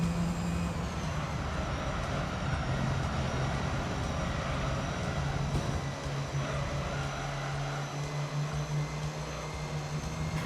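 A racing car's 4-valve American high-displacement V10 engine drones steadily at high revs for about ten seconds in Gran Turismo 3, a sustained loud mechanical roar with a held tone and no talking.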